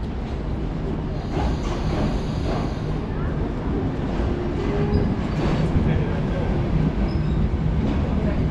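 Passenger train pulling into Suceava station, a steady rumbling roll of wheels and carriages with faint squeals, continuous and moderately near, with people talking in the background.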